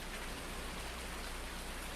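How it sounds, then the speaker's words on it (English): Steady rain pours down in Farming Simulator 19, a dense, even hiss of falling drops that stays constant and fairly close throughout, with no voices over it. "obviously I can't do anything here until after the rain stops coming down"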